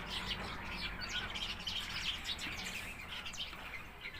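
Many birds chirp and tweet together as they arrive to feed in Talagang, making a dense, continuous chorus of overlapping calls at moderate distance with no talking.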